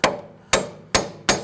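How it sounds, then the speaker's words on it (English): Four sharp metallic hammer taps strike the clevis fork on the front strut of a 2008-2013 Infiniti G37 during a CV axle replacement, spaced roughly half a second apart, close and loud with quick decays. "you can go ahead and take a hammer and just tap on the top of the clevis fork up here"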